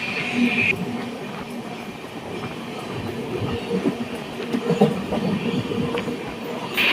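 A second-class carriage of the Ernakulam–Velankanni Express clatters over old track along a backwater bank on the Kottayam route, a continuous close rumble with rhythmic wheel knocks and brief higher squeals.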